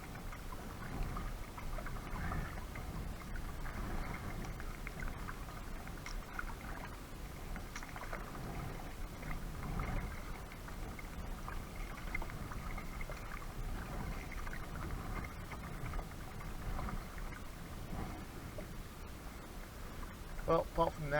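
Kayak paddling on Ullswater lake produces continuous watery splashing and dripping, steady and close, with wind rustle and no clear speech.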